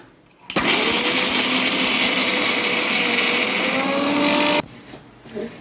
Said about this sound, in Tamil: சுத்தம் பண்ண தேங்காவை மிக்சி ஜாரில் போட்டு நல்லா நைஸாக அரைச்சிக்கலாம்